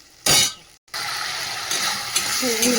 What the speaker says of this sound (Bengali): এই মশলাটা ভালো করে কষাবো, টমেটোটা গলে যাবে।